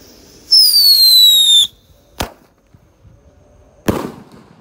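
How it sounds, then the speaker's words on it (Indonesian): A jumbo mortar firecracker lit on a Ramadan night gives a loud rising whistle for about a second, then two sharp, close bangs a couple of seconds apart, the second trailing a crackle. "Mercon mortar sweet. Kita nyalakan teman-teman."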